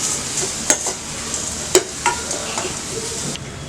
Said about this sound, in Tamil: இதையும் நல்லா நம்ம வறுத்துக்கலாம். இது அரைக்கிறதுக்கு நம்ம வறுக்கிறோம்.